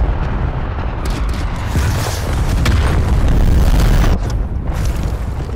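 A cruise missile strike detonates in a Call of Duty multiplayer match, a loud, sustained booming rumble with layered blast noise that swells midway and then eases off.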